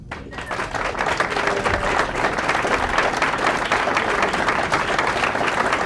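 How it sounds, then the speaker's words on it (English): An audience at the Magic Castle breaks into strong, sustained applause, a dense steady wash of clapping from many hands that holds at full volume throughout. "A round of applause for the fabulous Rena."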